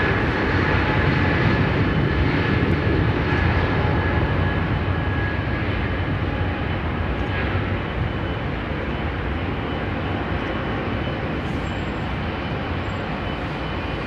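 Aircraft engines roar at London Heathrow Airport in a continuous, loud, broadband drone that holds steady throughout and eases slightly toward the end, with no talk.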